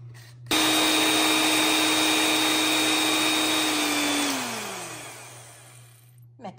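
An electric mixer blends a smoked salmon spread with softened cream cheese, chives and onion powder, starting abruptly with a loud steady motor whine that drops in pitch and winds down after about four seconds.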